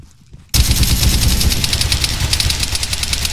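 Rapid automatic gunfire in Arma 3 erupts suddenly after a short quiet lead-in, then hammers on in a loud, continuous burst of closely spaced shots.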